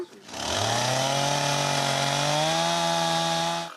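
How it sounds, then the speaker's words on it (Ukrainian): A chainsaw engine revs up and holds a steady, loud droning whine for a few seconds at a house being rebuilt; no distinct hammer knocks stand out. "Чути гул бензопили та стукіт молотка."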